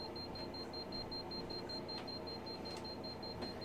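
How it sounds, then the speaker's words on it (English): A rapid series of short, high electronic beeps from an analog EMF meter held near a light, repeating evenly over a low steady hum, close by, with no voices. "My analog meter. I know this thing works. I can get it to beep."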